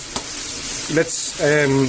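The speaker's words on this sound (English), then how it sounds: "brown the garlic up slightly" Garlic sizzles in a pan with chicken and chorizo, a steady close frying hiss under a brief voiced sound.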